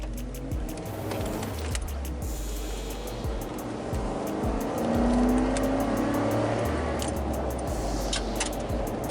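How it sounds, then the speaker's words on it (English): A Ford F-150 pickup truck with a drive shaft slip-yoke bump accelerates semi-hard from a stop, its engine rumbling steadily from inside the cab, with a rising note partway through. "I'm going to come to a stop here, and I'm going to accelerate semi-hard."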